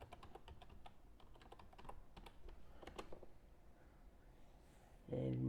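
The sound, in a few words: typing a password on a computer keyboard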